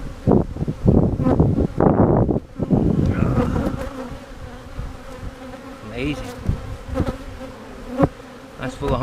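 Honey bees from an open, mean-tempered hive drone in a dense, steady buzz close by, with rustling and handling noises, and a loud burst of activity early on before settling into a continuous hum.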